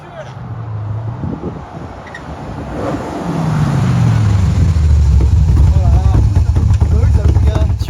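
An American car engine at close range revs in rising sweeps, the growl climbing and swelling louder in the second half, with excited voices talking over it.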